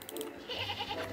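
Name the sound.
goat bleating in Star Stable Online video game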